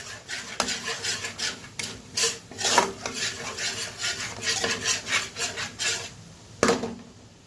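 A spoon scrapes and stirs turmeric and Kashmiri chili powder through a pan of masala for shahi paneer, giving repeated close rubbing and scraping strokes with a few sharper metallic knocks against the pan.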